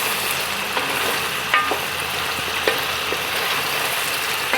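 Beef for a goulash browning in a cast iron pot while being turned: a dense, steady close sizzle with a few faint clicks and scrapes.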